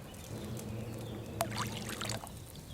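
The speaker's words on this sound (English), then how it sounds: "Pour wine." In the video game Kingdom Come: Deliverance 2, wine trickles from a pitcher into a cauldron as a quiet, brief pour with a soft splash over a faint low hum.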